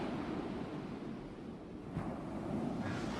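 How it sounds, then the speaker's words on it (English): Ocean waves washing back and forth, a steady broad rush of surf that swells and recedes, moderately faint and alone without voices. "I have headphones here where you can hear an ocean wave going back and forth"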